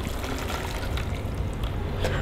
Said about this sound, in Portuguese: Vou usar uma peneira para escorrer.